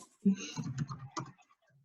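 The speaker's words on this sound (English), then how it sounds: "Sorry, I'm typing." Soft, quiet keyboard clicks patter irregularly in a brief run of keystrokes, close and faint.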